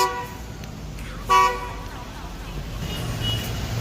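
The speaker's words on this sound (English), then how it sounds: "How many times you gonna honk your horn" A single short car horn toot sounds over steady street traffic noise, with a faint background hum continuing afterward.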